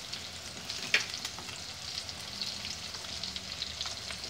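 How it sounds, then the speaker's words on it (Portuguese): Cassava frying in a pan of oil at home, a continuous crackling sizzle with brief stirring clatters, including one sharper knock near the start. "Estou fritando aqui"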